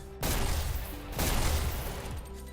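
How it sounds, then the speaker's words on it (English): Loud, dense bursts of gunfire in a competitive multiplayer shooter match, two sustained volleys of rapid shots filling the foreground with barely any talk. "that gunfire is really loud"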